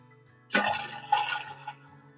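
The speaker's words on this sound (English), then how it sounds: "tea is now to room temperature, so I'm going to pour it into our vessel" Room-temperature brewed tea pours into a kombucha brewing vessel, a steady splashing gush of about a second and a half with a brief second surge midway, close and fairly loud, with no talking.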